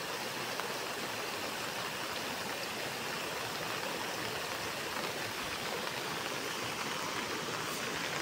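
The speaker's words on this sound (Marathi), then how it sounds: "ते फुल असं जबरदस्त पाणी पडलेलं आहे." A rainwater stream runs full after a heavy pre-monsoon downpour in a village, giving a continuous, even rush of water with no other sounds.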